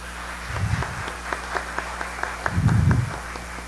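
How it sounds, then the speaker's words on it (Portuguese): Audience applause for a guest speaker at a formal Black Consciousness Week ceremony, two short bursts of clapping from a crowd with scattered single claps between them, moderately loud and not far off. "Gostaria que todos aplaudissem ele."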